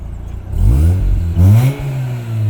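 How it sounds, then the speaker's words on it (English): A 2009 Mazda RX-8 rotary engine idles with a lumpy, uneven burble, then revs up twice in short rising blips before settling back to a loud, close idle. "the wonky, lopey idle here that it's always moving around is always very characterful of an RX-8"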